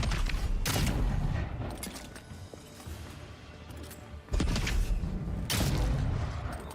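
Gunfire in the fantasy action game Avowed: a few sharp shots and heavy booms burst out over a dense battle backdrop, loud and close, with no talking.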